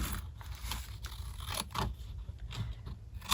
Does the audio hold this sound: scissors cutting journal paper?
yes